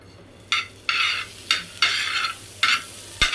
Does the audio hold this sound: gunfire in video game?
no